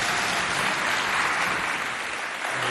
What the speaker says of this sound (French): Bon, on applaudit cet effort.